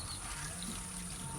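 Clear water flows gently in a stream, a quiet, steady trickling wash heard close and alone.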